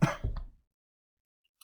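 A single short cough bursts out close up, a couple of rough chesty pulses fading within half a second, followed by silence and a faint click.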